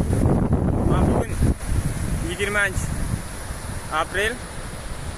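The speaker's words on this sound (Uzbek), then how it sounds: "Mana sel kelyapti egiz buloqda." Mudflood water rushes at Egiz Buloq near Jizzakh, Uzbekistan, heard as a continuous broad roar mixed with wind buffeting on the microphone, with brief speech over it.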